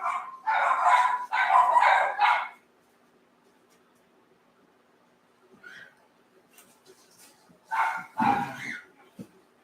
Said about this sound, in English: they've upset the dogs